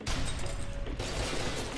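Dense gunfire from a firefight in the video game F.E.A.R. 2, a loud continuous burst of shots with no clear gaps, running through the whole moment.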